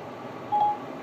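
A single short electronic tone sounds once mid-clip as a phone call is placed through Apple CarPlay in a 2015 Hyundai Sonata at an auto show, over a steady low background hum.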